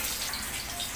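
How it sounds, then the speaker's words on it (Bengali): Water gushes and splashes into a pan for hilsa fish curry, a brief steady pour heard up close. "এবারে আমি জল দিয়ে দেব।"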